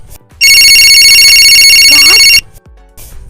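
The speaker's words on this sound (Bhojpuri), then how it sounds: "रुको लो तनी फोन आई बा" A telephone ringtone blares loudly and close for about two seconds, an electronic tone abruptly starting and cutting off, with brief voices around it.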